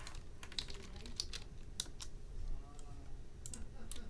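Rapid computer keyboard typing with sharp clustered key clicks during copy and paste, fairly close and steady, with faint background hum and no clear talk.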